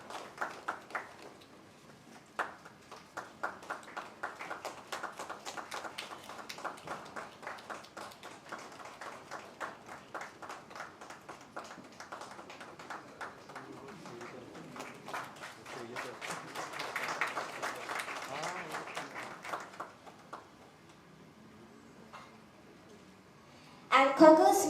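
An audience at a stage event claps steadily for a long stretch, a dense patter of many hands at moderate distance that swells slightly toward the end before a louder burst.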